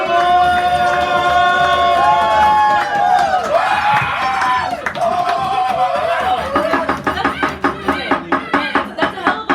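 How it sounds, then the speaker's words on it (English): A café poetry-night audience in San Francisco breaks into clapping and cheering with scattered laughter, starting under a talking host and swelling into a loud, dense burst of applause near the end. "That's a hell of an applause to come and follow"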